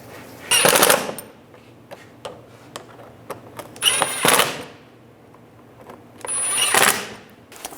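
Power tool tightening shield bolts on a 2005-10 Volkswagen Jetta during drive belt kit replacement: three loud bursts of rapid mechanical rattling, each about half a second to a second long, with quieter clicks and handling noise in between.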